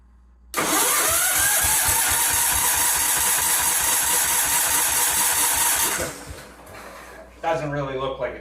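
A carbureted engine, primed with fuel in the carb, cranks and catches, then runs loud and steady with a fast rhythmic pulse for about five seconds before dying away, followed by talk.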